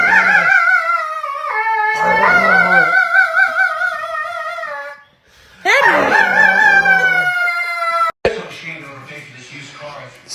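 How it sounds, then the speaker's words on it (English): A Chihuahua howls in long, wavering, high-pitched vocal wails, loud and close, in three drawn-out bursts separated by brief pauses, with a final rougher yelp at the end. "Watch my dog go full diva."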